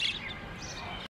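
Caged lovebirds at a bird market in Buraydah give a brief burst of high chirps over a busy background murmur.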